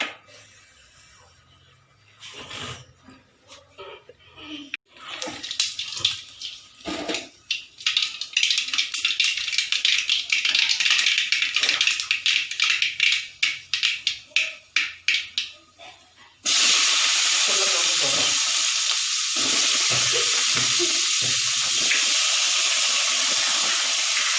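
Mustard seeds in hot oil for a potato fry, rapid crackling and popping that builds into a dense spatter, followed by a loud, even hiss of frying, close and with no talk.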